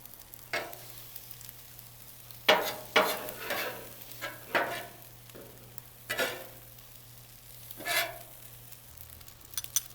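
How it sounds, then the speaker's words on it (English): Butter being stirred into kimchi fried rice on a hot griddle, a low steady sizzle broken by repeated scraping strokes of a spatula at close range, with no talking. "Next, I'm going to mix in a little bit of butter."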